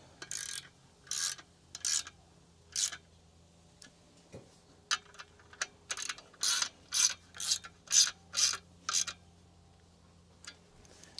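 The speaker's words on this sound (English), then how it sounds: "I'm torquing it down probably like to 20 or something like that." A ratchet wrench tightens the clutch bolts on a Buick V6 225 engine on a stand, giving bursts of crisp rapid clicking in short strokes, sparse at first and then quicker and louder in a steady series.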